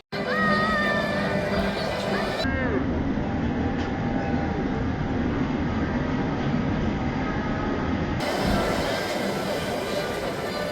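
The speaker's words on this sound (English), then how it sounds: "I'm gonna wait a couple of minutes for the monorail to come around so I can catch that on video here too." Disneyland monorail rolling past at a theme park, a steady broad rumble that swells and holds for several seconds, with park crowd noise and faint tonal squeals underneath.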